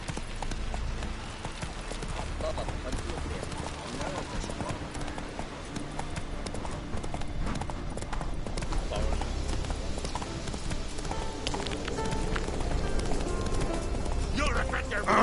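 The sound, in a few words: horse galloping in video game The Witcher 3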